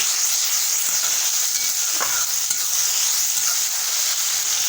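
Chopped tomato and onion frying in a spiced tempering in a pan, giving a loud, steady, close-up sizzle with faint stirring scrapes and no voices.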